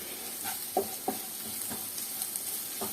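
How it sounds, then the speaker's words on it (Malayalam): Prawns are mixed with garam masala and Kashmiri chilli powder in a pan, giving faint scraping and stirring taps over a steady high hiss. "ഇതെല്ലാം കൂടി നന്നായിട്ട് മിക്സ് ചെയ്യാം."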